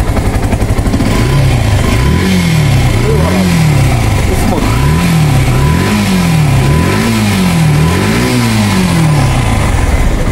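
A Yamaha Fazer version 2 150cc fuel-injected motorcycle, around 12,000 km on it, revs repeatedly in even, rising-and-falling pulls over a steady loud idle, recorded up close.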